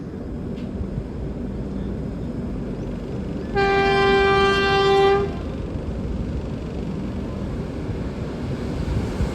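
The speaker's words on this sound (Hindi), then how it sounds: "यहाँ पे हमें बेंगलुरु राजधानी ओवरटेक करने आ रही है" Heard from a moving train, the Bengaluru Rajdhani Express overtakes at high speed amid steady loud rolling rumble and wind, with a bright, sustained horn blast lasting under two seconds midway.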